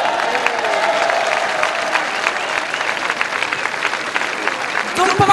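Crowd applauding at a French political gathering, sustained dense clapping at even loudness throughout, with some cheering and voices mixed in underneath.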